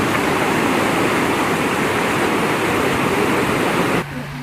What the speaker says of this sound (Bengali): এখানে একটা নদী বয়ে চলেছে, ছোট্ট পাহাড়ি ঝোড়া